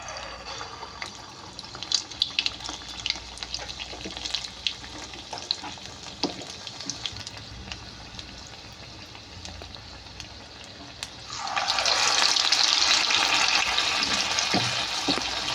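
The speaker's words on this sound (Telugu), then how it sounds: "వేసుకొని చక్కగా గారెలు షేప్ ఇచ్చుకొని అది మెల్లిగా ఆయిల్లో జార్చుకుందాం" Garelu, ginger lentil fritters, frying in hot oil as Navaratri prasadam: a steady crackling sizzle with small pops, swelling into a loud, dense bubbling roar as fresh batter hits the oil near the end, no talk.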